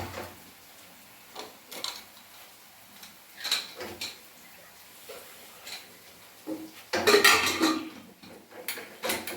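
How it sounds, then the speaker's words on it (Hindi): Rice is washed in a pot, with scattered clinks and knocks of grains and water against the metal, building to a louder, busier rinsing burst toward the end; no talking. "अभी चावल वॉश कर रहा हूँ।"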